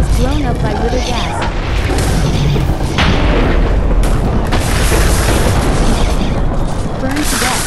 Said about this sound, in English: Was blown up by Ritter gas.